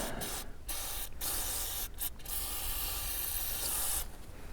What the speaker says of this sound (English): spray down and then give it a wipe